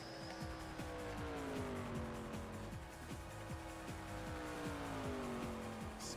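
A race car in NASCAR Racing 2003 at Daytona Superspeedway wrecks and slides. Tire squeal and a steady high engine whine run together under a continuous racing roar, loud and unbroken for several seconds.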